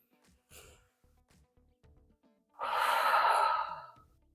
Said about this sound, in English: Really deep breaths clear to the bottom of your stomach.